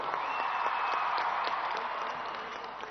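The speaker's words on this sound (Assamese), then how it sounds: "সকলো দৰ্শকসকল আমাৰ বিহুৱা বিহুৱতীসকলৰ কাৰণে এটা ডাঙৰ হাত চাপৰি" An audience at a record-setting Assamese Bihu dance performance applauds for the dancers, sustained clapping from a large crowd that fades slightly toward the end.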